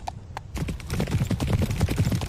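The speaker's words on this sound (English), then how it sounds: "the sound for my horse sounds like it's actually coming from behind me" Horse hooves clip-clop steadily in the Steel Ball Race video game demo, a rapid continuous galloping rhythm of close, fairly loud hoofbeats after two brief isolated knocks at the start.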